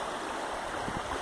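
Floodwater from the Sanpoil River at flood stage rushes steadily where overwhelmed culverts send water over a road, a loud, continuous broadband roar close by, with no voices.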